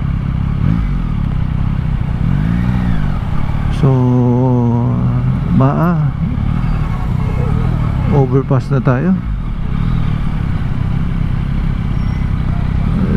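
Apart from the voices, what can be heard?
motorcycle riding on a road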